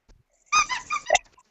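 A squeaky dog toy with 16 squeakers gives a quick burst of three or four short, pitched squeaks, close and clear against silence.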